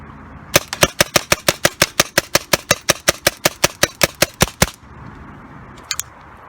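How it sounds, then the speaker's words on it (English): An airsoft or replica rifle fitted with a newly assembled Tacamo bolt fires a rapid, evenly spaced string of about twenty sharp shots outdoors, then falls silent before two quick clicks. "let's do some shooting with the bolt that we just assembled"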